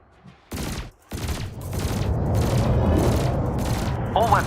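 Spaceship weapons firing at canisters in Elite Dangerous, a series of regular heavy bursts that settle into a continuous loud barrage, with brief talk at the start.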